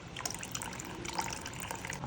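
Tamarind water pours for kollu rasam, a soft, faint trickle and splash of liquid that runs continuously for a couple of seconds.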